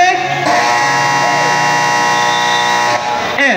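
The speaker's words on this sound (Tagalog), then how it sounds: "Buzzer na lang maririnig." A loud, sustained buzzer blares at a basketball game to end the first quarter, holding steady for about three seconds before cutting off, over crowd and commentary noise.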